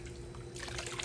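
Water trickles and splashes out of a Milwaukee PACKOUT tool box after a weather test, a steady close pour that grows louder and brighter halfway through.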